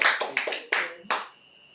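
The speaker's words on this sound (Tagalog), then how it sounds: "Palakpak sa Panginoon" A church congregation claps in praise during a sermon, several loud, distinct bursts of hand clapping close by that fade out after about a second and a half.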